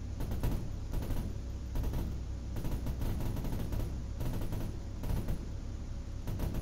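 Rapid gunfire bursts in a military video game mission, a dense sustained volley of shots with repeated cracks over a steady low rumble, loud and continuous throughout.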